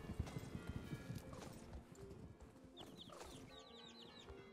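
Horse hooves clip-clop steadily inside a stable in the Star Stable Online video game, with a neigh and chirping birds and clucking poultry rising over the hoofbeats toward the end.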